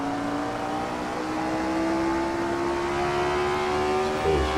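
Race car engine in Assetto Corsa at Goodwood, held flat out on a fast straight, a loud steady high-pitched drone slowly rising in pitch, then a brief drop near the end.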